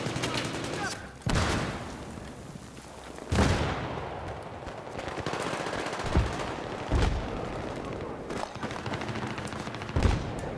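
AS Val rifle fire in Battlefield 4, sharp loud bursts of automatic gunfire and shots recurring across the scene amid game ambience, with people talking in between.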